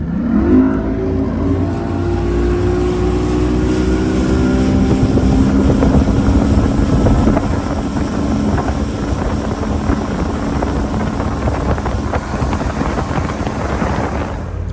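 A Mercury 200 HP outboard motor on a boat roars loud and close, its pitch climbing as it accelerates before settling into a steady drone, with wind buffeting the microphone throughout.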